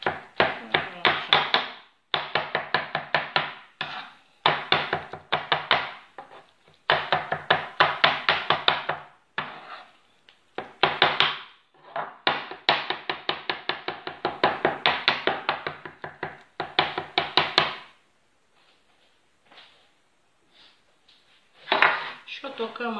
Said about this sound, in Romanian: O tocăm încet, încet.